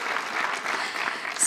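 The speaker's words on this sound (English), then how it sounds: "You guys should clap." Audience at a college commencement ceremony breaks into steady, sustained applause, a dense wash of many hands clapping throughout with no pauses, fairly loud and continuous from start to finish.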